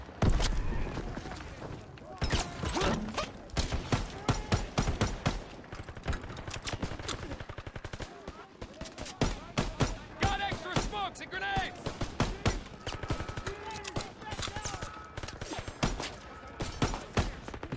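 Rapid bursts of gunfire in a World War II shooter game, Call of Duty WW2, crackle repeatedly across the scene alongside footsteps and other combat noise, with a player talking over the action.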